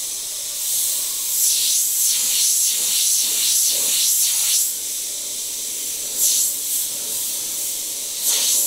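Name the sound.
Iwata HP.BCS siphon-feed airbrush spraying paint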